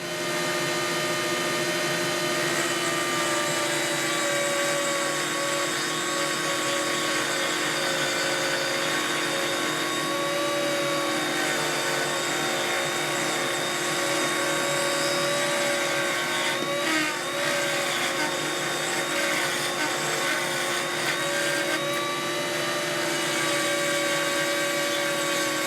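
A router cuts the neck pocket of a solid-body guitar, giving a loud, sustained high-pitched whine with steady tonal hum and brief rough patches where the bit bites into the wood.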